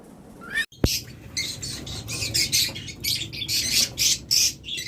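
Busy high-pitched chirping and squawking from several caged lovebirds, budgerigars, cockatiels and diamond doves, close by and continuous, after a sharp click at the start.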